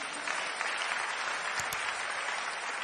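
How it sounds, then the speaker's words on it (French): A church congregation bursts into sustained applause to acclaim the Lord, a dense, even clapping from many hands throughout, with a couple of brief sharp knocks near the middle. "Acclamons le Seigneur."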